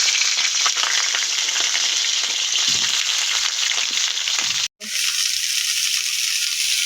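Cauliflower florets fry in hot oil in a pan, giving a steady, loud, close sizzle that cuts out for a moment near the end before resuming.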